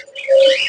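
A dove calls at a busy bird market in Mirpur, one short loud close coo rising and holding briefly, alone.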